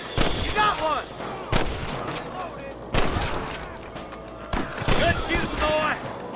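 Gunshots ring out in a Red Dead Redemption shootout in the New Austin frontier, several loud sharp cracks spaced a second or so apart, each trailing off, amid game sounds and brief voices.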